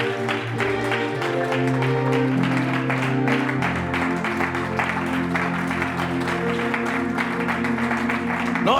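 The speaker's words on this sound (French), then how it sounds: "Lève-toi et donne les acclamations à Dieu" A church congregation claps and cheers for God over sustained music with held tones, the dense clapping steady and continuous throughout.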